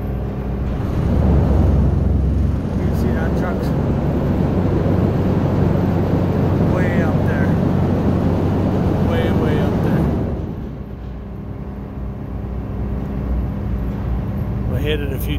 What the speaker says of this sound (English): That vibrator will shake the snot out of it.